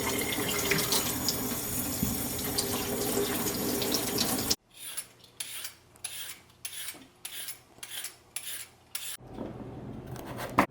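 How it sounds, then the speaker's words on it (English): Tap water pours steadily into a kitchen sink while vegetables are washed, then stops. A peeler follows with a series of rhythmic rasping scrapes across the vegetables. "So now I'm just going to wash and peel all the vegetables."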